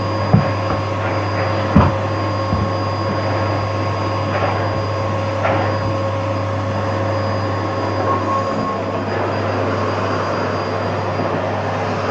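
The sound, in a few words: Henry the Hoover vacuum cleaner running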